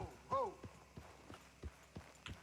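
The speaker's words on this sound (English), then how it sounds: "Oh, it's just a man on a horse." Horse hooves clip-clop steadily in Red Dead Redemption 2, a man riding past, with roughly six evenly spaced thuds at a walking pace under a voice.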